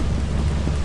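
Rain and thunder in the video game Lethal Company, a dense, loud wash of rainfall with a deep rumbling low end, brief and continuous.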